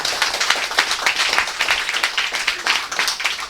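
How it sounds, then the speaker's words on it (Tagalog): A church congregation applauding at a worship service, dense and loud clapping throughout with no talking. "Pinakamalakas na palakpak po sa lahat, sa Panginoon mula sa lahat."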